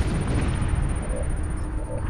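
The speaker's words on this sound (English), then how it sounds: "Good explosion." A booming explosion in the Star Trek VR video game rolls out as a dense, loud low rumble that fills the short moment without any speech over it.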